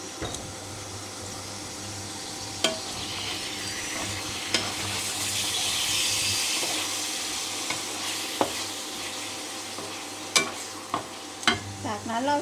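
Eggplant stir-frying in a pan, with a continuous moderate sizzle and sparse sharp clinks of a spatula scraping the pan over about twelve seconds, no voices.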